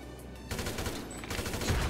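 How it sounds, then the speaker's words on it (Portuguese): Rapid bursts of gunfire in the video game GTA V erupt after a brief quiet moment, continuing densely and loudly with overlapping shots like a firefight. "O Vinícius tá ali trocando tiro com o cara"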